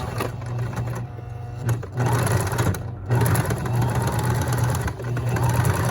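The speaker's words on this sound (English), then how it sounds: "So I'm understitching on the facing, and I'm going to stitch down to that notch again" A sewing machine understitching a facing, running in a steady close whir with its rapid needle rhythm. It pauses briefly between bursts and then resumes stitching.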